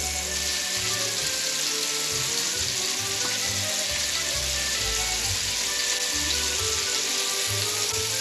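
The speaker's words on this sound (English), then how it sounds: "take your chuck roast and then roast each of the sides" Chuck roast searing in a pot for beef bourguignon, a loud, steady sizzle and spatter of frying meat held close throughout with no talking.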